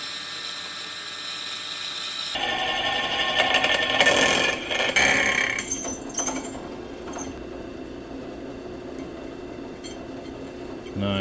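Screws being driven into a wooden birdhouse with a power driver, a loud whirring burst at mid-clip that tapers into quieter workshop handling noise, close by.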